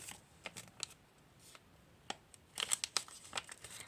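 A crinkly plastic packet is torn and opened up close, giving irregular crackling rustles that grow busier and louder toward the end.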